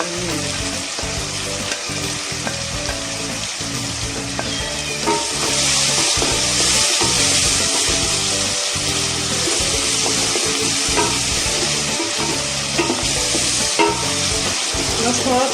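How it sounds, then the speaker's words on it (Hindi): Frying in a pan with turmeric and salt, heard up close as a loud, continuous sizzle with rapid rhythmic scraping of a spatula against the pan, which grows a little louder partway through. "बस थोड़ा थोड़ा फ्राई करना है"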